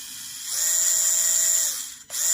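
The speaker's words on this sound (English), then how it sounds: "Listen to that transmission, it's just loud." An Axial SCX30 Chevrolet K10 micro RC crawler's transmission gives a steady, loud, high-pitched whine at full throttle. It cuts out briefly, then spins back up, with no talking.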